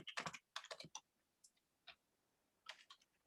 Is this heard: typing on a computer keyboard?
yes